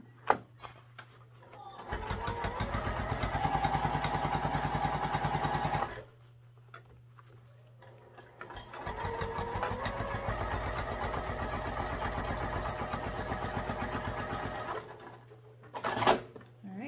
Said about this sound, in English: I think I would go ahead and baste those straps in place